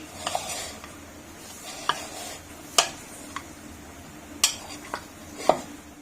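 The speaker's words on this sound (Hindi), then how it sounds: "अब मिक्स कर लेंगे।" Vegetables are mixed in a pan with a quiet background sizzle, broken by sharp, sparse clinks and scrapes of a metal spoon against the pan at uneven intervals. Nobody talks.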